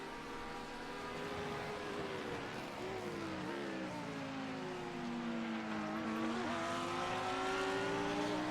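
GT3 race cars run downhill at Motegi in a sim racing game, their engines droning loud with rising and falling pitch as they shift gears, one close behind another in the slipstream.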